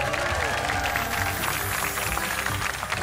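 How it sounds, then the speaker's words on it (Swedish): Studio audience applause on a television quiz show, a loud, continuous wash of clapping and crowd noise holding steady throughout. "En applåd till Alfred."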